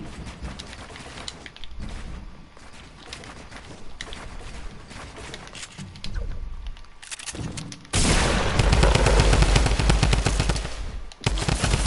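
Automatic gunfire from a Fortnite battle match, sustained rapid bursts of spraying fire throughout, growing louder and denser in the final seconds, with no talking.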